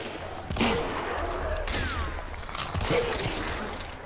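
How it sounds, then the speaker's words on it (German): Gunfire echoes in Hunt: Showdown, with a couple of loud shots and rumbling reports rising over a dense, noisy ambient background with no clear speech. "Mann, da wird schon geballert."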